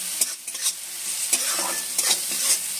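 Semolina mixture with turmeric frying and being stirred in a pan, a steady close sizzle broken by scraping stir strokes, with no talk.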